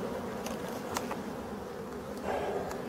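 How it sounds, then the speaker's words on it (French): Black bees buzz around a Warré hive, a steady close droning hum with brief passes of individual insects, and no talking. "on peut voir, il y a des abeilles, elles sont maculées de pollen"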